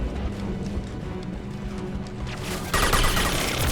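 Gunfire in Mass Effect 2 combat: a dense, continuous rattle of weapon fire under a low rumble, swelling abruptly louder near the end, no talk.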